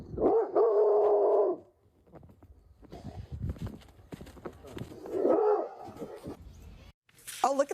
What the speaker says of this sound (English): one pup who's going viral for fiercely defending his mom against a frosty